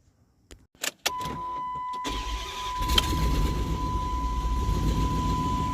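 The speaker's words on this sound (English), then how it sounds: "I'm going to fire it up, see how it does." A 2006 Dodge Durango 4x4 engine cranks with a few short bursts, then catches and settles into a steady, loud idle with a faint high whine running through it.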